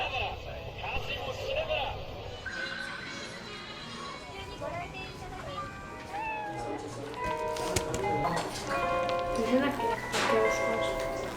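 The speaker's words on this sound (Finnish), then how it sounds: "Vähän sattumalta päädyttiin tämmöiseen kissakahvilaan." Several cats in a cat café in Japan meow in scattered high, wavering calls, some close and some farther off, amid ongoing voices and room noise.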